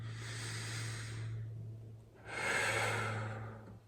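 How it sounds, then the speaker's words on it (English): Two long, slow meditation breaths, a soft airy inhale followed by a stronger, louder exhale, close to the mic over a steady low hum, with no talking. "Just close your eyes and take a deep breath. Another one."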